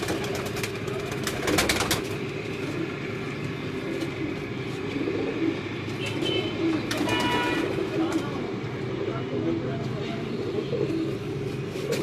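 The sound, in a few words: Lakha pigeons cooing at a pigeon club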